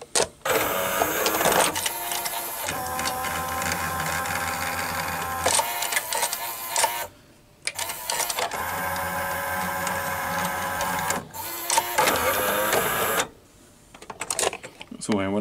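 The motor and tape mechanism of a 1984 Toshiba V-M42C Beta VCR whir and buzz steadily in several long runs, broken by brief gaps and clicks as the mechanism shifts, heard close up.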